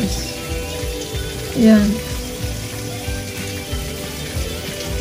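Heavy rain falls outside in a steady, dense patter with a broad wash of water noise, and a voice speaks briefly over it.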